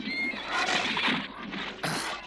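Horse neighing loudly and close, a shrill whinny that wavers and rises over about two seconds with a brief higher burst toward the end.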